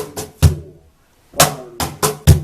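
Cajón played in a steady pattern of quick 16th-note slaps broken by deep bass-tone hits, loud and close with a short pause in the middle and no talking.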